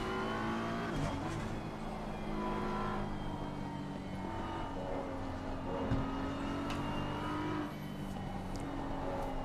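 A pack of race cars in a sim racing league at Suzuka drones steadily with sustained high-revving engine tones, shifting pitch as cars jostle close together, with faint passes and no clear talk.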